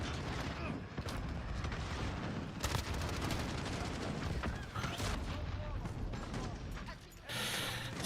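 Dense gunfire from a Modern Warfare match on the Obsidian Night map, with shots and bursts crackling steadily over a busy game mix, and a voice talking throughout.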